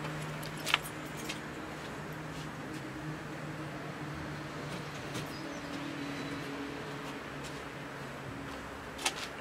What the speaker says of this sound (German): wenn ich jetzt den Schlüssel reinstecke